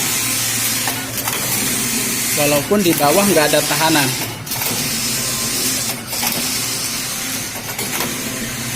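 A full-computer single-system knitting machine with a 1+1 carriage runs with a continuous mechanical whir and hiss, punctuated by a rattling burst and carriage passes, while a person speaks over it.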